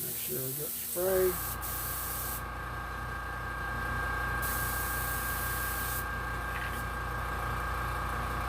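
An airbrush sprays diseased umber paint onto a Jason hockey mask, giving a steady close hiss that stops and starts in long bursts, with a brief word of speech at the very start.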